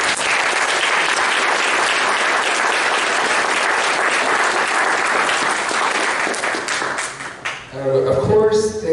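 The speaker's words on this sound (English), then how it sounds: "let's give an applause for Sam Estes" Audience applause at the closing session of the ICPS 2018 conference, a dense, steady roar of many hands clapping for about seven seconds before it thins out and a voice begins speaking.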